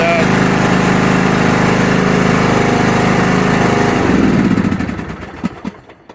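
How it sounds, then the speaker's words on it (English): A lawn mower's small engine runs loud and close with a steady buzzing drone, then stutters and sputters down to silence. "I was able to start my mower."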